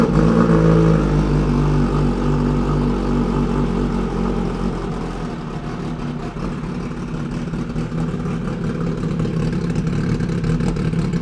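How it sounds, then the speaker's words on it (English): BMW HP4 Race motorcycle with a straight-piped full exhaust starting cold, a loud, close, continuous raw engine roar that holds steady and slightly dips midway before building again. "This is gonna be loud. First cold start."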